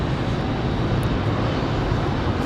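A Lockheed KC-130 Super Hercules departing from Raleigh-Durham airport, heard as a steady, loud broadband engine roar with no voices.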